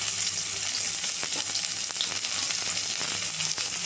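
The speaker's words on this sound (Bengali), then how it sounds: "দিয়ে দেবো প্রথমে রসুন কুচি, তারপর দিয়ে দেবো পেঁয়াজ কুচি।" Chopped garlic and onion frying in oil, a dense, steady close-up sizzle with faint stirring scrapes throughout and no speech.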